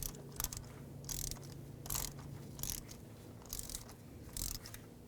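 Ratchet wrench snugging a spark plug on a 2004-2010 Toyota Highlander engine, faint repeated short clicking strokes at a steady rhythm, each a brief burst of ratchet clicks, with no talk.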